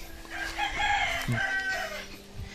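A rooster crows once, close and clear, in a farmyard with chickens clucking faintly around it.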